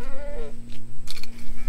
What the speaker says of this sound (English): Oh, the goats are coming.